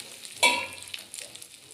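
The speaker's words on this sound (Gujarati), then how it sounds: "અત્યારે 3 ગ્લાસ જેટલું પાણી નાખું છું." Water poured into a hot pot of spice tempering for khichdi, a short sudden burst of hissing sizzle that quickly fades to a soft bubbling crackle.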